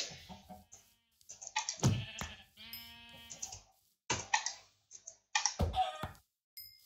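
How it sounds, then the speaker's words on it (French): Sheep in Minecraft bleating in several short, bright bursts, separated by quiet gaps and mixed with scattered keyboard clicks and typing. "Il y a tellement de moutons ici."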